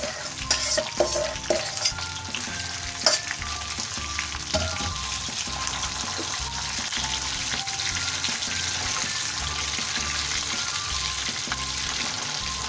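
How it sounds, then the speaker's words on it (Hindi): Finely chopped chana dal fries in ghee with a steady sizzle, while a utensil stirs and scrapes the pan in regular strokes, busiest in the first few seconds. "दाल को 2 से 3 मिनट घी में फ्राई करें।"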